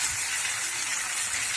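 Water poured into a pan of Bengali potato curry (niramish aloo dum with yogurt, no onion or garlic) makes a close, steady hissing sizzle that lasts without a break.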